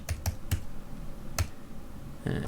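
Keys tapped on a computer keyboard while writing Swift code for iOS, a handful of sharp separate clicks spaced irregularly, ending in a brief cluster, close and fairly quiet with no talking.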